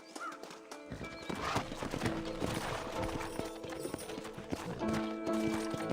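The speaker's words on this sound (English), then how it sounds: "Horses are over here!" Horses in the Red Dead Redemption video game trot with quick clip-clopping hooves and neigh, the hoofbeats starting suddenly after a short silence and running continuously, close and fairly loud, with music-like tones underneath.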